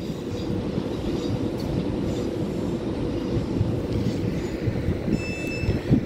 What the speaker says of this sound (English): One 156 service to Manchester Piccadilly, local service, Northern Trains.